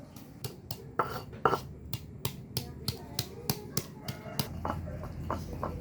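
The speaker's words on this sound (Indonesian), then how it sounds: "Ini ada bawang merah, bawang putih, lanjut kita ulek" Shallots and garlic are crushed in a stone mortar, giving a steady series of sharp, close knocking taps in an irregular pounding rhythm, fairly quiet.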